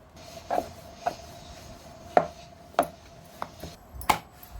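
A rolling pin presses and thumps on chapati dough against a board, giving about eight separate soft knocks at uneven intervals over a faint hum, close by, with no talking.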